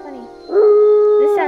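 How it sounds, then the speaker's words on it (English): A wolf howls in the video game Howling Heart, a single loud, sustained tonal call that rises and holds steady, preceded by a softer whine. "This sounds just like a wolf thing."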